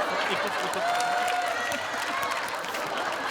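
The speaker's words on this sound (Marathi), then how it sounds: "जोरदार टाळ्या वाजवा." An audience applauds at a comedy skit performance, a moderate continuous patter of clapping from the crowd with people talking over it.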